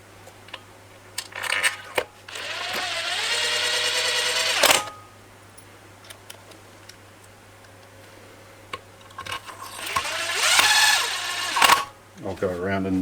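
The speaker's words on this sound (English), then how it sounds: "I'll go around and retorque them, just getting them in there." Bolts freshly coated in Loctite on a Kawasaki H2SX motorcycle being run in and retorqued with a wrench: two long bursts of rapid ratcheting clicks, close and fairly loud, separated by a quieter stretch.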